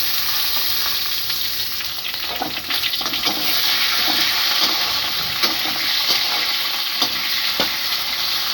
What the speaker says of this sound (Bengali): এই যে সবজিগুলি কুমড়ো আর আলু ডুমো ডুমো করে কেটে রেখেছিলাম এগুলিকে একটু ভাজা ভাজা করে নেব।